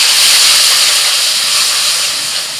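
Spice paste of onion, salt, turmeric, Kashmiri chili, coriander and cumin hits a hot pan as water goes in, giving a loud, continuous steamy hiss that eases slightly toward the end.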